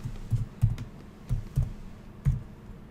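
Computer keyboard typing up close, a few short bursts of soft key clicks in an uneven rhythm with brief pauses between groups, no voices.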